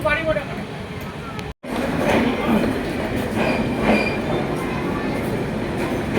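A train pulls into Bolpur Shantiniketan station, giving a steady close rumble of wheels and carriages with faint squeals, while people talk nearby.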